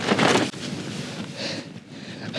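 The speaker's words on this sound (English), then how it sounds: "It's a really solid wind. It's not so much gusty, it's just absolutely solid, really constant" A strong, steady wind blows over a mountain summit in the Black Mountains of South Wales, heard from inside a small tent as a constant broadband roar with mild swells rather than distinct gusts, fairly close with no talking.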